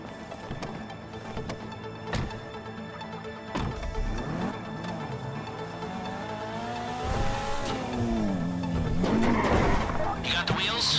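Car engine and tires in GTA Online on PS4 during a bank heist mission, revving and shifting pitch with skids and impacts, engine whine rising toward the end, mixed with game effects and spoken dialogue.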